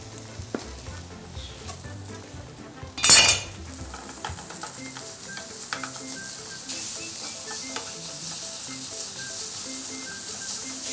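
Kimchi fried rice being stir-fried in a pan: a sharp clatter of utensil against pan early on, then a building, continuous sizzle and hiss with occasional scrapes and clinks, close by and without talk.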